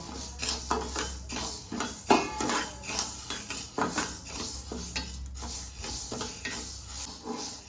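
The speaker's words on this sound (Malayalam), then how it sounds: "അപ്പം ഞാൻ ആദ്യം തന്നെ ചെയ്യണത് ഈ മുതിര ഒന്ന് വറുത്തെടുക്കുകയാണ് കേട്ടോ." Horse gram dry-roasts in a pan as it is stirred, the hard seeds rattling and scraping against the metal in repeated rhythmic sweeps, close and moderately loud, with no one talking.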